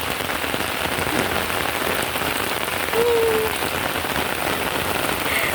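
Heavy rain pours steadily over an orchid garden, a dense, constant hiss of drops striking leaves and surfaces close by, with no voices.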